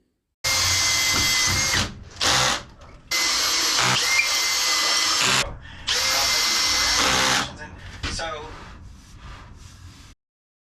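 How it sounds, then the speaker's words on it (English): A power drill drives screws through wood into clamps during woodworking on a kennel cover, in three long loud bursts of whirring with brief pauses, then a quieter stretch of handling and clatter. "I actually screwed through the wood and into my clamps."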